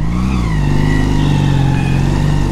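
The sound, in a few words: Honda CD200 Roadmaster motorcycle engine while riding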